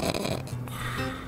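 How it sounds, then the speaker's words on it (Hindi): A man snores in one close, rasping, rattling breath that lasts just over a second. "आपको सिर्फ दो तरह के खर्राटे पता होंगे"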